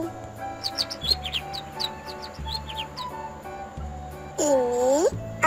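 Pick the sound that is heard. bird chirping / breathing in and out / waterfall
bird chirping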